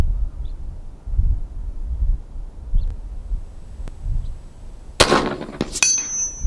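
An Epox Badger .375 caliber rifle fires a single sharp, loud report near the end. Low gusty wind rumbles before it, and a second brief crack or echo follows.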